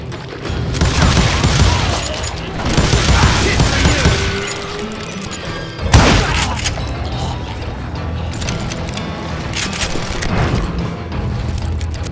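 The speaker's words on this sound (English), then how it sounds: "a fusillade of bullets come raining down from on high" A volley of gunfire rains down from above in the Western shooter game Call of Juarez: Gunslinger, a dense, noisy barrage of overlapping shots with a sharp crack near the middle, continuing loudly throughout.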